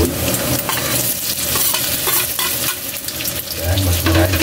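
Fishballs fry with garlic in a large pan, a dense continuous sizzle with stirring clatter throughout and a slight swell near the end, nobody speaking.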